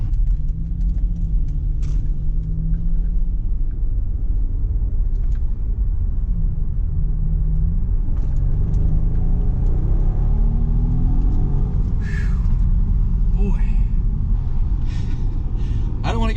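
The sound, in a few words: Mercedes SL65 AMG car driving fast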